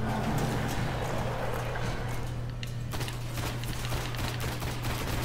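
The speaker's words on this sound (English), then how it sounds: "Auto fire." Automatic weapon fire in the Destiny video game on PS4 rattles in dense rapid bursts, close and loud, firing almost continuously over a low steady drone of background game sound.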